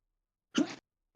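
A single short, sharp sneeze, close and fairly soft, isolated in otherwise near silence.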